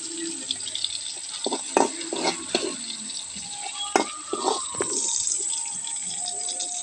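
Food frying in oil in a pan, a steady bright sizzle with scattered stirring scrapes, utensil knocks and rattles, close and fairly loud throughout.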